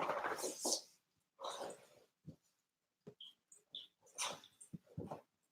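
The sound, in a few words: dog scratching on an expensive chair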